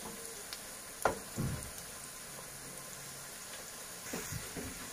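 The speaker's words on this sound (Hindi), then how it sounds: "ये नगेट्स स्लोली फ्राई हो रहे हैं और इसको आप इस तरीके से घुमाते रहिएगा" Homemade chicken nuggets frying slowly in oil over a low flame, a quiet steady sizzle with a few soft knocks and stirs as the pieces are turned.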